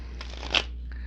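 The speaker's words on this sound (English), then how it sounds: "I'll give this one last shuffle." Tarot cards get one quick shuffle, a brief papery riffle about a second long over a low steady background hum, with no speech.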